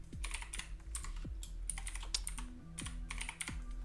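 Typing on a computer keyboard while writing HTML div tags: steady bursts of close, crisp key clicks with brief pauses between runs, no talking.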